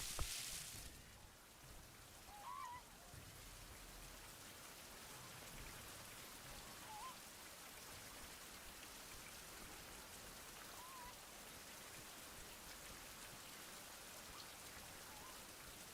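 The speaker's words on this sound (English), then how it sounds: "of course now it's raining" Steady rain patters down throughout a bleak survival horror game scene in Lone Survivor, a constant broadband wash of drops with a brief louder burst at the very start.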